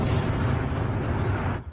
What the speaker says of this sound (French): 2 explosions sont entendues dans la région.